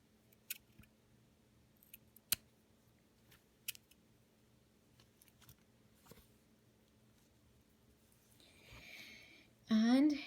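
Scissors snip through the thread of a beginner's chevron-stitch candy cane friendship bracelet. A few quiet, sharp clicks come at intervals in a hushed room, and a brief louder rustle and handling sound follows at the end.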